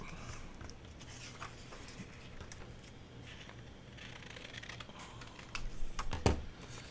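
Paper being cut with scissors for a peek-a-boo pocket, a series of soft close rustles and light snips building to a sharper crunch near the end, with no speech.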